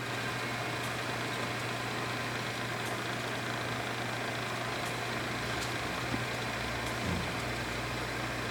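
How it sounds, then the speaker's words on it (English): Spindle of a Southwestern Industries TRAK 2-axis CNC bed mill, model TRM, running at a steady, quiet hum with a low even drone and faint machine ticks throughout, no talk. "He's running the spindle. Spindle's nice and quiet."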